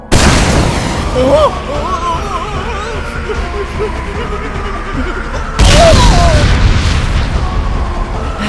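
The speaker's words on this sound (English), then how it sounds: "now my old teammates are shooting at me" Gunfire and explosions in the Team Fortress 2 video game, with loud booming blasts at the start and again around the middle, mixed with ongoing game noise and tones.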